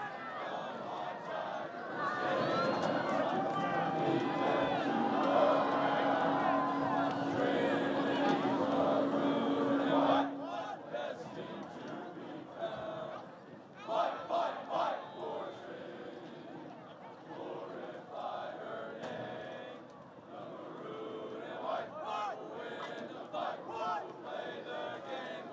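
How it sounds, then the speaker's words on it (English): A crowd at a college football playoff game, Trinity University against Mary Hardin-Baylor, sings the alma mater together in a loud sustained chorus. The singing stops abruptly and gives way to cheering, applause and scattered voices. "The Tigers will line up for the alma mater, so we'll let you hear it."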